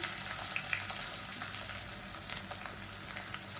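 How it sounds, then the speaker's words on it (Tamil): Whole spices and garam masala frying in hot oil for biryani, a steady dense sizzle with faint crackles, close and continuous. "இப்போ கரம் மசாலா எல்லாமே பொரிய ஆரம்பிச்சிருச்சு"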